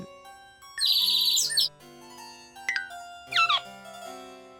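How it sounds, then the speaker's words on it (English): Bright cartoon bird chirps over a soft musical backdrop, with a long trilling call followed by two shorter chirping bursts. "A chirp."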